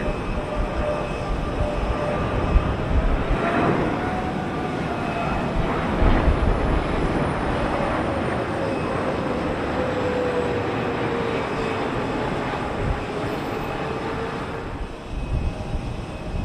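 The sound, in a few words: Air Canada Boeing 777-300 landing at Heathrow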